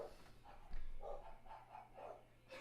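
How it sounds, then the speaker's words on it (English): A dog barks repeatedly and excitedly in a home, distant and faint, in a loose run of yaps roughly every quarter second over a low background hum. "That's my daughter ordering food from the takeaway and the dog's going balmy"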